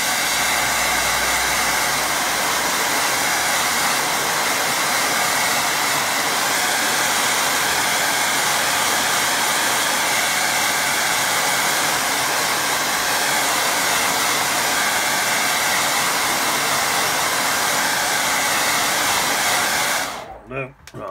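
A hair dryer blows steadily on a watercolour painting for about twenty seconds, a loud, constant close-up roar with no talk, cutting off abruptly at the end.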